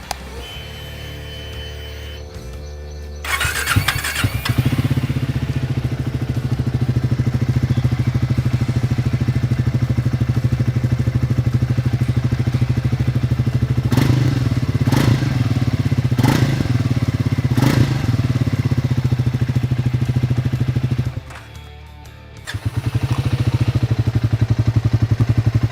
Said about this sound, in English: So when I rev both the engines, you'll probably not hear much of a difference